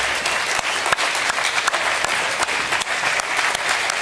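Audience applause at a speech, dense steady clapping from a sizable crowd sustained throughout, loud and close with sharp individual claps standing out.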